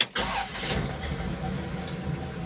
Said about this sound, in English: Let's start it up and see what happens.